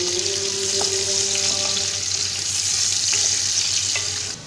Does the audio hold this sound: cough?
no